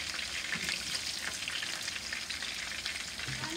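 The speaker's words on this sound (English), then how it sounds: "Keep frying because I want this to be very dark brown" Steady, dense sizzling of onions or meat frying dark brown in a pot for shami kabob, a continuous crackling hiss with no voices.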